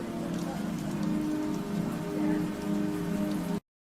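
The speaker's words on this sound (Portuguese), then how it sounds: "E a chuva constante torna tudo ainda mais complicado." Constant rain in a cyberpunk city, a dense steady patter of drops on surfaces at close range, running evenly for a few seconds before cutting off.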